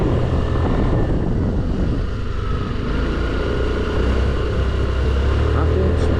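Loud, continuous roar of a scooter engine pulling under acceleration while riding in the rain, mixed with heavy wind rush and road noise close to the rider.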